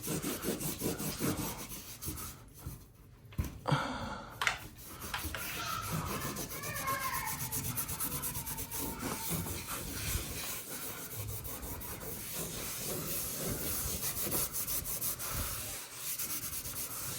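Sandpaper works over a drywall patch to knock down ridges, with close, continuous scratchy rubbing strokes that run steadily with brief pauses, alone without talk.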